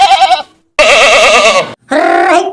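Goats bleat loudly and close, three long wavering cries with short gaps between them.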